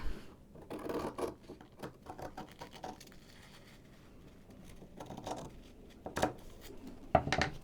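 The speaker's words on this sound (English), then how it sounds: "So I'm going to cut those out, leaving the fold intact." Scissors snip through folded tissue paper to cut out poinsettia petals, producing quiet, close, intermittent cuts and paper rustles with pauses between them.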